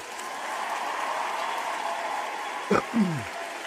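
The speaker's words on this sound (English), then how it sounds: "Round of applause to y'all." Audience applause during a live show taped in a building, a steady wash of clapping that holds throughout, with a brief voice breaking through near the end.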